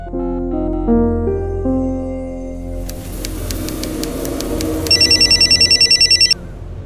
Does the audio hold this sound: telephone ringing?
yes